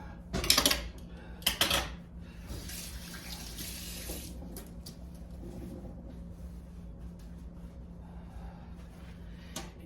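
Canned kidney beans are rinsed under a running kitchen tap. A couple of sharp splashing bursts come first, followed by softer, steady water flow and faint clinks in a quiet sink.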